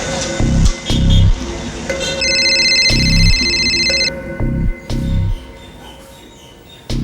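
A telephone rings once in a bright electronic trill lasting about two seconds, surrounded by dull low thumps and rumbling.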